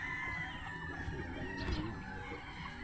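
Several chickens on a farm cluck and crow nearby in a steady flock chatter, with a speckled (bulik) hen's clucking among the overlapping calls.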